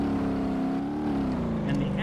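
Car engine in BeamNG.drive revving steadily with the parking brake on and the clutch held, a continuous loud droning tone that holds its pitch, with a voice talking over it.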